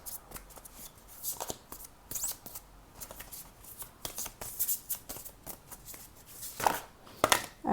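Tarot cards shuffled and laid down one by one during a reading, with crisp papery flicks and soft slaps arriving in irregular bursts, close and fairly quiet with no talking.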